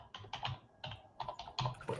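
Computer keyboard typing during a password entry, several short bursts of close, crisp key clicks separated by brief pauses, with no talking.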